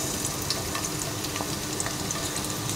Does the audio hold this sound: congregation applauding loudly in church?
no